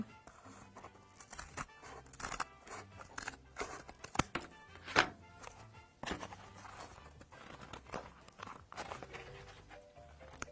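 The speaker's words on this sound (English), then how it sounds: "But I'm going to go ahead and snip it." Scissors snip through paper while shaping a piñata craft, giving a string of crisp, close cuts at an uneven pace with rustling between them and no talking.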